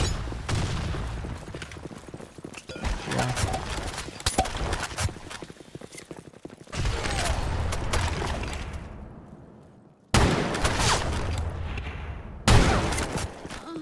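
Rapid bursts of gunfire crackle in a Blackshot competitive match, with dense clattering volleys, sharp single shots and brief pauses between exchanges.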